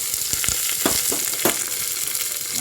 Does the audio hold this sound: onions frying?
yes